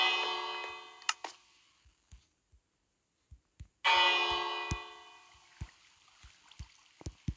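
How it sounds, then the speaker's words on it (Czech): A bell in a Minecraft hardcore game rings twice, each strike decaying into silence, between soft scattered clicks and footstep-like taps. "Tady je ten zvon."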